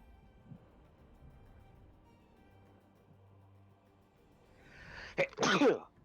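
A single sharp sneeze, loud and close, bursts out near the end after a stretch of quiet background hum, with a brief catch of breath just before it.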